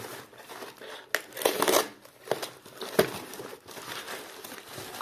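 Plastic bag crinkles and rustles in irregular bursts as radio circuit boards are unpacked, close up, with a few sharper crackles and pauses between handling movements.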